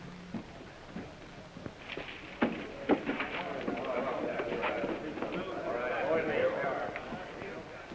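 Horses gallop away in a 1945 western film, with a scatter of hoof clops building into a muffled rush of running hooves under a distant voice.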